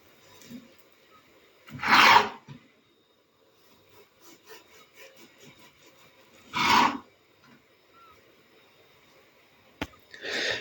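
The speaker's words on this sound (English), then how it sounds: "Cut slices from your roll." A knife slices through a pesto swirl bread roll in a few separate rasping cuts with quiet gaps between them, close and fairly soft.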